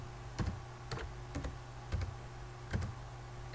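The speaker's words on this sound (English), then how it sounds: "we'll type that in here" Computer keyboard typing: a handful of separate key clicks spaced out in a slow, irregular rhythm, close and fairly quiet, with no one talking.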